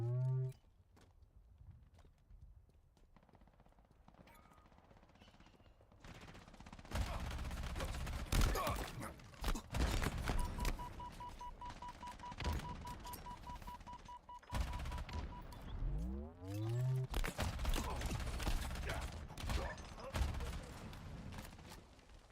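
Video game gunfire crackles in bursts of rapid shots mixed with other game sounds, loud and close, alongside someone talking.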